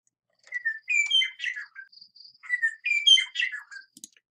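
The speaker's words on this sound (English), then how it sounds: "here is what the Western meadowlark sounds like." A Western meadowlark sings two clear, flute-like phrases of descending whistles and warbles, close and isolated against silence.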